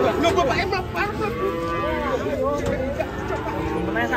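A frightened, agitated cow unloading from a truck lets out drawn-out bellowing moos, loud and close, with people talking nearby.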